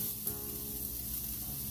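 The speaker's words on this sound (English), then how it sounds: "Do you see that? Grilling. Easy grilling." Korean bulgogi beef sizzles steadily on a grill, a dense continuous crackle and hiss that holds close and even throughout.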